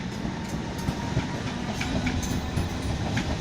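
A train passes through Clapham Junction with a steady, loud rumble and rolling rail noise, faint wheel clicks sounding throughout.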